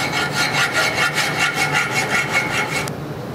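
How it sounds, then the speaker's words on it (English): Rhythmic back-and-forth rasping of a file on a steel hammer head, about a dozen even strokes, close and steady, stopping abruptly near the end. "I'm going to file until all those nicks and scratches are out."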